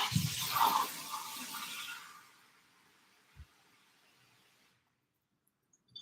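Water pours from a container into a pot holding frozen pork belly, a steady rushing splash for about two seconds that fades to a faint trickle, followed by near silence and one small knock.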